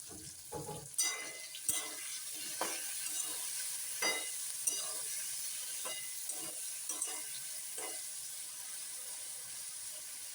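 Chopped green chillies and brinjal stir-fry in a pan with a soft, steady sizzle, punctuated by a run of spaced scraping stirs across about ten seconds.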